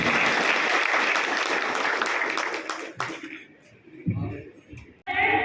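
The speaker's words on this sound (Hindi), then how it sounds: "जोरदार ताली से आवाज दीजिए" An audience at a fair gathering bursts into loud, dense applause for about three seconds, then it fades out and a voice starts speaking.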